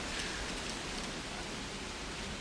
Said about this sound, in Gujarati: પવન સાથે ચાલુ થઈ ગયો વરસાદ, આ જુઓ.